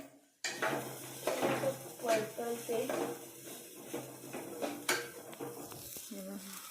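Pots, pans and utensils clatter and scrape while vegetable khichdi cooks in a home kitchen, with repeated close metallic knocks and stirring over a steady background hiss.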